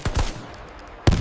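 Battle-scene gunfire: a quick burst of close, loud shots at the start, a short pause, then another sharp report near the end, with no voices.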